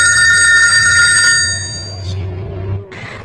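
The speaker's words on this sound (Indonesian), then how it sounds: "telepon ibunya pun berdering dan si Charlie langsung menutup teleponnya." A telephone ringing in a film scene, a bright, steady electronic ring that stops abruptly, followed by a low hum and a brief click.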